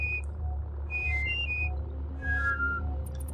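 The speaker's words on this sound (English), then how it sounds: "just try to whistle the thing" A character whistles in the video game Abe's Oddysee, giving short tonal whistle phrases of a few rising and falling notes over a steady low game hum.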